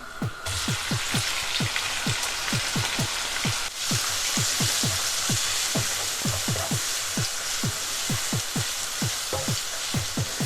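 Garlic and onion frying in hot oil, heard as a loud, steady sizzle with many crackling pops and spits. No one speaks.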